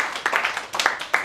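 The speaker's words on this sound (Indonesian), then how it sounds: "Berikan sorak-sorai buat Tuhan yang dahsyat luar biasa." A congregation claps at a church service in scattered, quick bursts over about a second, fairly close and loud, with no clear cheering.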